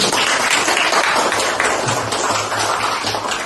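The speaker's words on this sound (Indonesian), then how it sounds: "Berikan aplaus buat Umairah." A classroom of students applauds a pupil named Umairah, a dense, steady wash of clapping that stays loud and even throughout without any voices.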